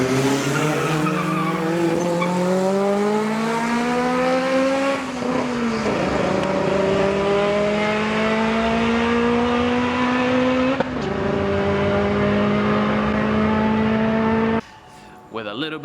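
A Honda Civic accelerates hard on a race track. The engine note climbs steadily, drops at each gear shift and climbs again, loud and close, with a brief cut near the end.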